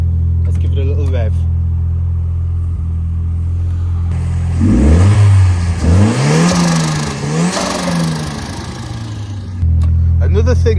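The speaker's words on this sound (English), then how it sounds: "Let's give it a little rev." A Ford Cosworth car with a standard exhaust revs its engine up and down in a couple of rising and falling swells over a low idle rumble, close and loud.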